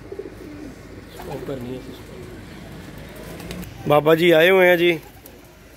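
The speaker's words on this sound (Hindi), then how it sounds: "ये भी मेरा उड़ता कबूतर है जो बाहर मैंने छोड़ा हुआ है।" Pigeons kept by a hobbyist in Pakistan-style loft, with a flying pigeon released outside, coo in a loud, swelling burst near the end after quieter calls, while someone speaks briefly beforehand.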